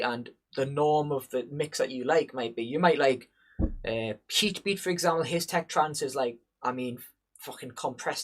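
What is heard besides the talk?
No distinct noise like a dog, phone or traffic.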